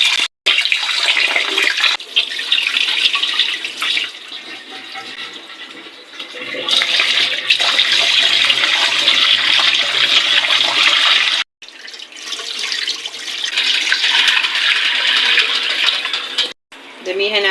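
Glutinous rice being rinsed under running tap water, a steady loud splashing and rushing stream with short breaks as the flow stops and restarts.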